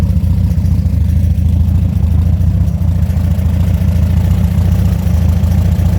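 A car engine idles steadily up close, a constant low rumbling putter that stays even throughout, with no voices.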